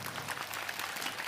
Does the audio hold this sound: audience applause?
yes